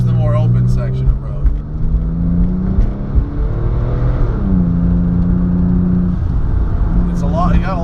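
A Koncept Motorwurks-tuned 760 WHP Porsche 997 Turbo with Tiptronic transmission pulls hard on an open road, a steady, loud engine drone rising and shifting in pitch from inside the car, with voices talking over it.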